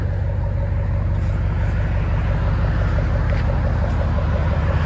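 Low, steady exhaust rumble from a 2012 RAM 1500 pickup with a 5.7L Hemi V8, true dual exhaust and muffler delete, droning continuously at close range with no talk over it.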